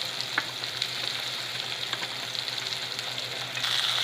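Onion and green chili frying in a little oil for kaala chana chaat, a steady close sizzle with small pops and crackles throughout, no voices.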